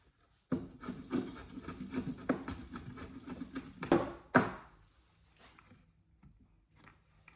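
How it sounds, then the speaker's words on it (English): Hand plane shaving strips of wood for a mahogany work table restoration, a run of quick rasping strokes followed by two sharper scrapes, then quieter handling sounds. "I'm planing the strips of wood slightly narrower than the slots are wide."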